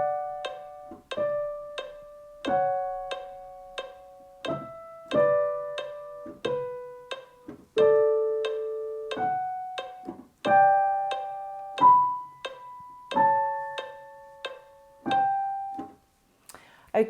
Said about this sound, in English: If you did want to play it with the added harmony notes,